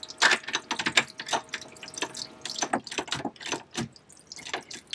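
Tightening nuts on a boat's leaking stuffing box, a run of quick close metallic clicks and ratcheting taps in irregular bursts, with faint dripping water behind.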